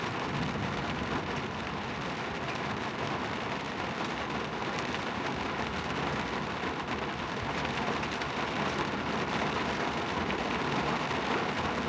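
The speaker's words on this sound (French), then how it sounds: "La pluie s'est tellement intensifiée que je n'ose pas sortir." Heavy rain pours steadily on a car during a road trip toward Tokyo, a dense, unbroken hiss with low rumbling beneath, constant and loud throughout with no voices.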